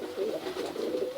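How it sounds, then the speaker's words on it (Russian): Tajik black-nosed pigeon cooing close by, a steady rolling coo with soft repeated swells and no talking. "Вот этот голубь черноносый."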